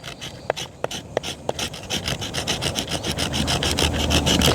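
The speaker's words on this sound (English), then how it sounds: "you notice I'm just pulling back and forth, kind of sawing across it." Serrated spine of a Milwaukee survival knife sawing back and forth across fat wood, a few sharp scrapes at first, then a steady, close, rhythmic rasping stroke after stroke.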